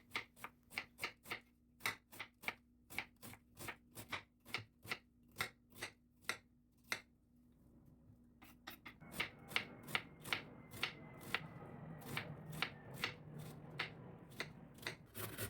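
A knife chopping cabbage in steady, crisp strokes on a cutting board, the close rapid chops continuing evenly and then carrying on over a louder rustling background partway through.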